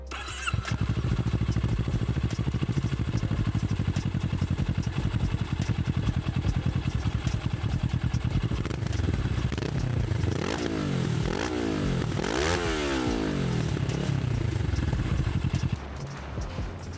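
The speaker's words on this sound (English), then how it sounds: "Then we have the 180-degree crank sound." A Kawasaki Ninja 650 with a 180-degree crank and modified exhaust idles with a lumpy, uneven pulse, then revs up and down several times in loud, close throttle blips before settling back to idle.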